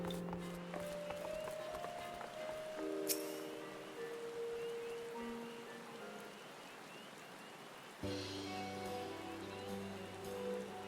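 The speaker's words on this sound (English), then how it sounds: "Don't put it away, it's raining." Steady rain hiss in Final Fantasy XIV: Heavensward during the Hatching-tide event, a continuous soft wash layered under bright game music and melodic tones, with a brief sharp chime partway and a louder musical swell near the end.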